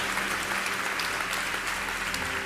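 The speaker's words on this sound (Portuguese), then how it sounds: "pode dar uma salva de palmas ao Senhor" Congregation at a church service applauding for the Lord, a dense, steady wash of many hands clapping at once, sustained throughout at moderate volume with no talk over it.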